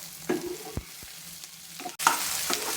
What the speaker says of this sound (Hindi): 2 मिनट हो चुके हैं मुझे प्याज को भूनते हुए।